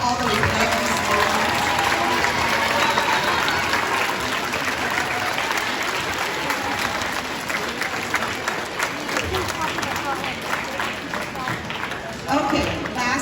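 Sustained audience applause at a middle school band concert, a dense crowd clapping steadily and loudly for the whole stretch, with voices mixed in.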